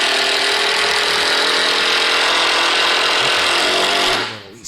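A DeWalt power tool hammers away in a steady, dense mechanical rattle, loud and close, running continuously for about four seconds before winding down at the end, with no speech over it.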